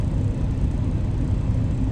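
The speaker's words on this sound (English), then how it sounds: "got my truck running. It's kind of hot outside. Trucks next to me, they loud." Heavy trucks idle close by on a hot day at a truck stop, a steady loud low-frequency diesel rumble that drones on without a break and with no talk over it.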